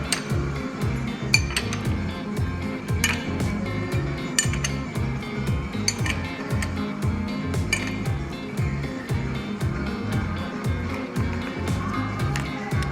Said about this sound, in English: as you're tightening the nut, the injector will come up and get extracted right out of there